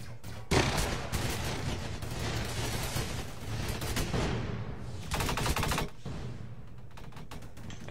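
Roblox Energy Assault gunfire rattles loud and near in sustained automatic bursts, with a sharp onset and a second dense volley partway through, over constant game background noise.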